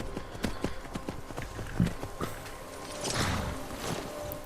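A horse walks on a road near the stables in The Rift region of Skyrim, with steady, close clip-clop hoofbeats in an even rhythm over faint game ambience.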